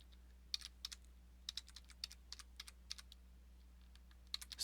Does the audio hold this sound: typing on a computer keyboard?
yes